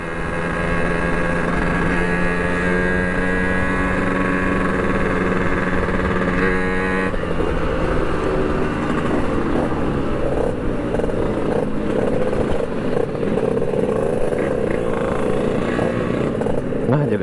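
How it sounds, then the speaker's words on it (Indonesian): Motorcycles on a Sunday morning group ride pass by one after another, engines droning and revving loudly and continuously, with a change in engine note partway through. "Ada 20 motor ini yang pergi"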